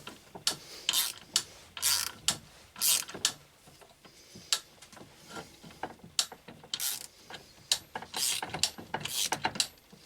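A screw being turned by hand to press a shaft into a BMW K motorcycle water pump, giving repeated close ratcheting clicks and scraping creaks in irregular bursts with short pauses between.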